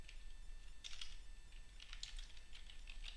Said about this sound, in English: we just type the string that says enter